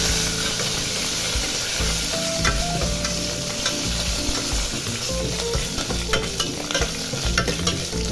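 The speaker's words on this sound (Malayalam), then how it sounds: "നമുക്ക് കരിയാമ്പില ഇട്ട് കൊടുക്കാം." Curry leaves hit hot oil in a pan and keep frying with a dense, steady sizzle and crackle. A utensil scrapes and stirs through it all along, loud and close.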